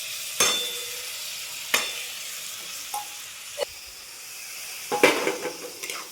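Sesame seeds frying in a pan give a soft, continuous sizzle punctuated by a few sharp scraping stirs and pops, close by and with no talking.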